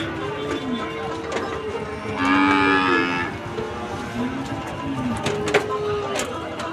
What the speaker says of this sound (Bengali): দর্শক এই গরুগুলো বিক্রি হয়ে গেছে দেখেন গাড়িতে উঠাচ্ছে